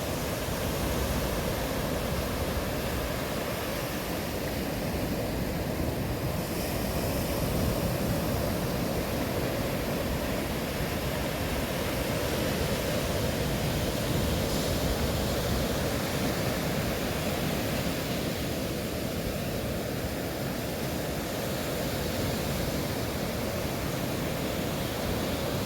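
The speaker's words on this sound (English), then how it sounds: "Just get some of these waves." Ocean surf breaks steadily on Vilano Beach, Florida, a loud, continuous roaring wash of waves with wind, close and unbroken throughout.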